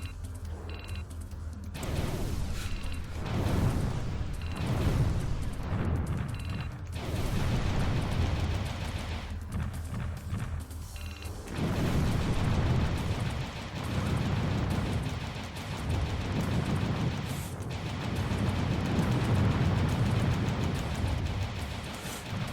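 Missiles whizzing and exploding in the Sega Saturn game Panzer Dragoon, with repeated loud rumbling blasts and rushing bursts that swell and fade in waves for over twenty seconds.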